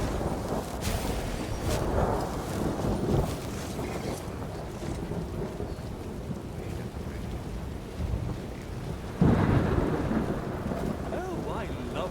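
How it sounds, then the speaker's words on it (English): Rain and thunder in the video game Skyrim, a steady close hiss of rainfall with low rumbling thunder rolling through and a louder burst near the end. "Oh, I love the rain."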